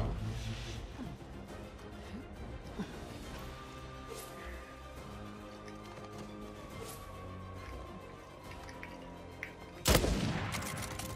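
Gunfire in the Uncharted 4 multiplayer game, a steady layer of shots and booms through a dense game mix with a louder crack near the end, heard alongside talking.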